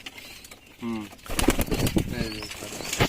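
A white pigeon in a pigeon loft, with a short coo followed by a rustling flurry of wing flaps and a few more soft calls, close by.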